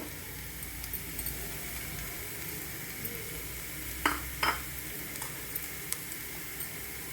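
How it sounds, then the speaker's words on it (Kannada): Cutlet mixture with garam masala fries in a pan, a continuous soft sizzle with occasional scraping stirs and a couple of sharper clinks, close and steady with no talking. "ಇದೊಂದು ಸ್ವಲ್ಪ ಫ್ರೈ ಆಗಬೇಕು, ಕಲರ್ ಚೇಂಜ್ ಆಗೋ ತನಕ ಫ್ರೈ ಆಗಬೇಕು."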